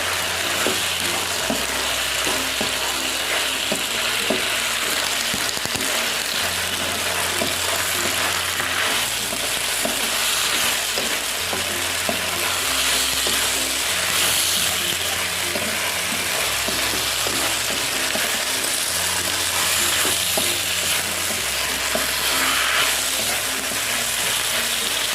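Rice vermicelli with mustard greens and cabbage is fried in a pan while being stirred, giving a steady soft sizzle with repeated scraping and clinking of the utensil throughout, without any talking.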